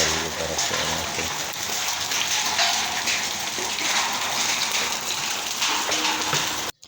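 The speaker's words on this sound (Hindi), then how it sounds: "बर्फ़ के ओलों से बहुत ही मोटे मोटे ओले गिर रहे हैं हर तरफ" Heavy hail with large hailstones and rain pelting down on a street in Multan in a dense, loud, unbroken clatter that continues throughout and then cuts off suddenly.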